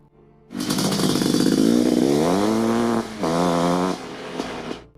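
A Suzuki LT500R two-stroke 500cc quad racer engine kicks in loud and close, revving up in a rising buzzing whine, dipping briefly, then revving again before cutting off.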